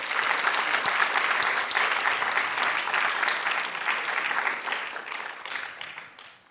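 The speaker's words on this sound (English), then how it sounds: "let's give all of the students a big round of applause" Warm applause for the students at a county speech festival awards ceremony, a full room clapping steadily and fairly close, then tapering off near the end.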